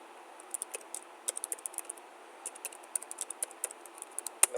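Keys clack on a computer keyboard in quick irregular bursts of close, crisp taps as an apt-get update command is entered, over a quiet background.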